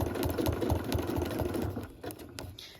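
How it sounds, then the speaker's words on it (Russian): A sewing machine quilts stitches through fabric, a rapid rhythmic mechanical chatter close by that slows and eases off toward the end. "Так, иду в ту же строчку, перехожу и продолжаю."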